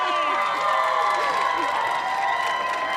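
Tennis crowd in a New York stadium, a dense, sustained roar of cheering and applause with whistles and shouts layered over it, loud and continuous throughout.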